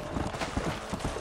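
Horse hooves clip-clop in a quick, uneven rhythm of muffled thuds in Red Dead Redemption, moderately close and steady.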